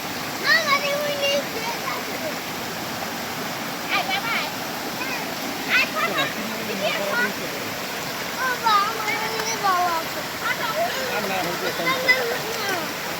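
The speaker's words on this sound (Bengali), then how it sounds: "দেখো বন্ধুরা কত সুন্দর পাহাড় থেকে জল নামতেছে, ওয়াটারফল।" A waterfall pours down from the hills in a scenic spot, a constant rushing roar of falling water heard throughout, with people talking over it.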